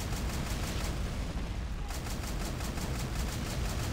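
Dense, continuous rumbling explosions and gunfire roar without pause in a war video game battle against bunkers, a heavy wall of noise with rhythmic pulsing blasts throughout.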